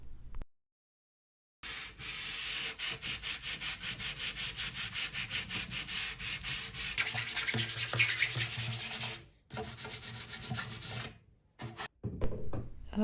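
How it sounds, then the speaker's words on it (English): Continuous back-and-forth sanding of wood filler on a small vintage wooden dresser, a rhythmic scratchy rasp with brief pauses, close and fairly loud. "Now I'm just sanding all the wood filler."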